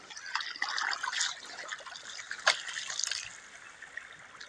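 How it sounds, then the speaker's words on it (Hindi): Fast-moving floodwater rushes and trickles steadily across a flooded area, a close, continuous wash with small splashes and a sharper spatter midway, no voices. "पानी की जिहड़ी रफ्तार है वो बहुत तेज़ है"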